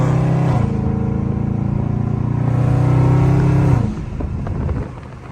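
A very loud Dodge Scat Pack engine roars at a sustained high rev while driving in traffic, then drops sharply as the driver lets off and the exhaust burbles lower.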